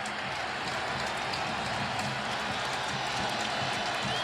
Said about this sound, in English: The Wisconsin crowd trying to get their defense into it a little bit right now